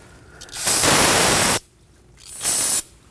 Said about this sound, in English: Using some brake parts cleaner, we're gonna spray the area just to get rid of any of the fluid.